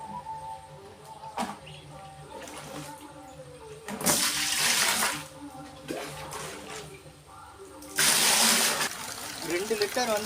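Water poured from a container into a bucket holding liquid fertiliser, two loud splashing gushes a few seconds apart with softer trickles between, and a voice talking in the background.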